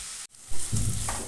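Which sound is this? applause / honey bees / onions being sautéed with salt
onions being sautéed with salt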